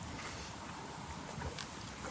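Miniature horses walk along a fence line, their hooves making a soft, irregular clip-clop over a steady outdoor background noise, moderately close with no talk.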